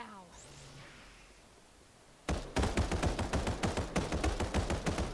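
Rapid automatic turret fire in the mobile battle royale game Final Fantasy VII: The First Soldier starts abruptly after a quiet stretch, a loud, steady burst of repeated shots that lasts to the end.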